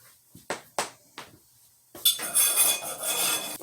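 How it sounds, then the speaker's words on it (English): Ingredients for a cocoa cake frosting are mixed in a pot on the stove, opening with a few distinct clinks and knocks of utensil on metal, then a louder, continuous rattling scrape as the mixing speeds up. "I'm going to put those on the stove and mix them up well and bring them to a boil"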